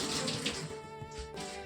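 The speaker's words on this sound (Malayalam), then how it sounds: "അപ്പോൾ കൈ കഴുകിയിട്ട്" A tap runs steadily into a sink as hands are washed in a home kitchen, a close, soft, even stream of water with slight splashing variations and no talking.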